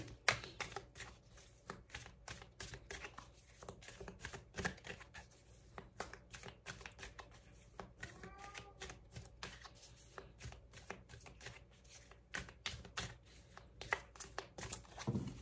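Tarot cards are shuffled without pause for a love reading, dense rapid riffling and flicking with quick papery snaps close to the microphone, fairly quiet, with no talking.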